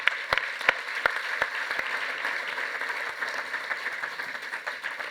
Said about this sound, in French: Merci beaucoup, on peut vous applaudir.